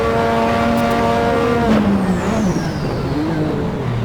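A Lotus 98T Formula 1 car screams through its engine on a rain-soaked Adelaide street circuit in Assetto Corsa, loud steady high-pitched tone dropping as it slows and then climbing again as it accelerates out of a hairpin.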